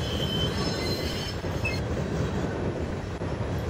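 A container train in the SimRail simulator pulls onto a siding behind a Dragon locomotive, giving a loud, continuous rumble with wheel squeal and faint clickety-clack over the rail joints.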